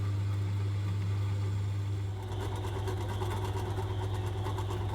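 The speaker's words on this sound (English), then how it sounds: "the mighty meddings will work its wonders and we'll get them all drilled out to 8mm." A Meddings pillar drill opens holes out to 8mm with a steady low motor hum. About two seconds in, a rougher, busier cutting noise joins as the bit bites into the workpiece, close and continuous.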